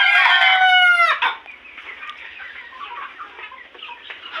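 At a poultry farm with 66-day-old chickens, a rooster crows loudly up close, then several chickens cluck softly and continuously in the background.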